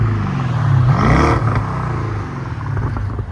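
A 2014 BMW 650i with a 4.4-litre twin-turbo V8 and deleted muffler: a loud, close engine rev that climbs in pitch, then settles into a rough, rumbling idle.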